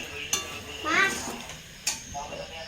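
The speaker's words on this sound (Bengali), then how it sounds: "এবার মশলাটা কষিয়ে নিই" Spice paste frying in a kadai for chicken curry, a spoon scraping and clinking sharply against the pan over a soft sizzle, with a brief faint voice in the background.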